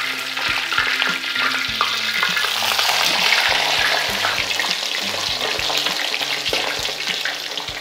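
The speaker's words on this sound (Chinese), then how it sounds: "给它反过面来继续煎另外一面" Sea bass fillets pan-frying in oil on medium-low heat, a steady dense sizzle with light clinks of a utensil against the pan, close and continuous with no talking.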